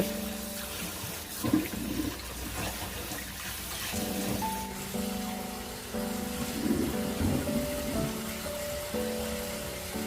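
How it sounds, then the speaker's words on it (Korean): Salted napa cabbage is rinsed in clean water at a sink, with running water, splashing and sloshing as the leaves are moved, a steady close wash that swells and eases. "잘 절여진 배추는 깨끗한 물에 두세 번 헹궈줍니다."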